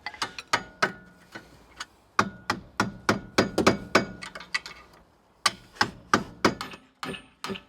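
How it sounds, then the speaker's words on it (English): Repeated sharp metallic hammer blows on a chisel, driving it against a seized original brake pad on a low-mileage barn-find car. The strikes come in quick irregular bursts with short pauses between groups, close and loud with no talking. "he's chiselled away the original pad."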